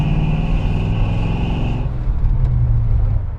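A big-block 1973 El Camino SS engine idles with a loud, steady rumble; a higher whine drops away partway through while the low throb carries on alone.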